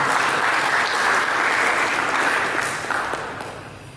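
A church congregation applauds for God during a sermon, a steady, full wash of clapping that holds loud and then slowly fades toward the end.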